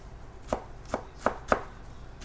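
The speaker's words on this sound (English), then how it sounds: "And then I want to chop." A knife chopping fresh herbs on a cutting board for shrimp ceviche, five sharp, evenly spaced thwacks close by, with no voices.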